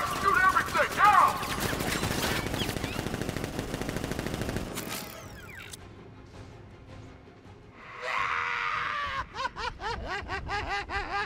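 Militia gunfire in Batman Arkham Knight, rapid bursts of automatic fire in a dense stream, then a pause and further clipped volleys, with game voices and laughter mixed in.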